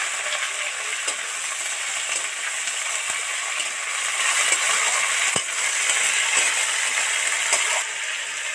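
Eggplant, potato and tomato sizzle steadily in hot oil in a pan for a cooking dish of korai shaak, a continuous close frying hiss with faint stirring clinks and no talk.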